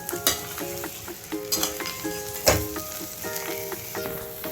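Chicken fry with coriander sizzles in a pan while being stirred, a steady close crackle broken by several spoon scrapes and clanks against the metal.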